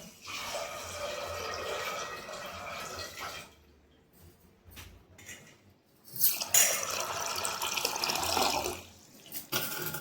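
Water splashes and streams in bursts into a cooking pot, a steady pour that pauses briefly, then resumes loudly before trailing off; no talking.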